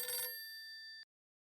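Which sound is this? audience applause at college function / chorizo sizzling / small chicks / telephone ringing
telephone ringing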